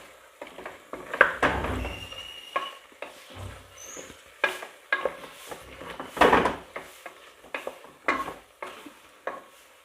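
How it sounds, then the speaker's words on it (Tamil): A spoon stirs goat head curry with masala in a pot, making intermittent close scraping strokes and wet clatters with quiet gaps between them. "அதோடு சேர்த்து நல்லா கிண்டி விட்டுக்குவோம்"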